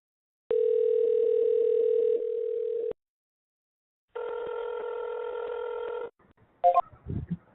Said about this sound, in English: so I'm going to call a different scammer